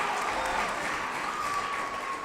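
A short stretch of continuous audience clapping for graduates at a doctoral hooding ceremony, an even wash of many hands heard from some distance in a large hall.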